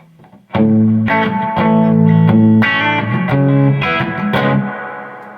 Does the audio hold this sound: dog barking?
no